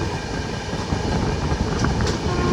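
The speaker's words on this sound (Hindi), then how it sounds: "चलिए WP7 ने अपना करामात शुरू कर दिया, ट्रेन बहुत रफ्तार में भाग रही है हमारी।" An Indian passenger train hauled by a WP7 locomotive runs at high speed, giving a dense, continuous rolling rumble and rush from the carriages with faint squeals from the wheels.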